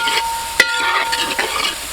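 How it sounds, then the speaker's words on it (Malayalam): Shallots and onions sautéing in a pan, a loud close sizzle with brisk stirring scrapes and one sharp clink of the spatula against the pan. "ഇനി നമുക്ക് നല്ല രീതിയിൽ വഴറ്റിയെടുക്കണം കേട്ടോ"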